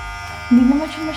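A Philips Multigroom Series 7000 MG7720 trimmer runs with a steady, fairly quiet electric buzz, close by, briefly swelling louder for a moment.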